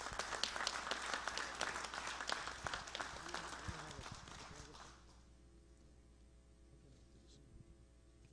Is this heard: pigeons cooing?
no